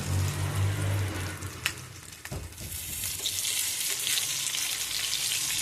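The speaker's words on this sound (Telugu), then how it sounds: "మనమైతే ఫిష్ ఫ్రై చేసుకుంటున్నాం" Fish fry sizzling in a pan, a constant spattering hiss with a low hum early on and a couple of faint utensil clicks, no talking.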